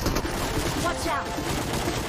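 Dense gunfire in the video game BGMI (PUBG), a continuous clattering barrage of shots at steady loudness throughout the short stretch, with game voices mixed in.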